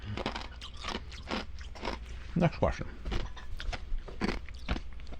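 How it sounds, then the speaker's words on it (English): Ice crunched between teeth in a series of sharp, close bites and grinding chews, loud and irregular, with someone briefly speaking over it. "Sorry to crunch ice in your ears, but I'm crunching ice in your ears."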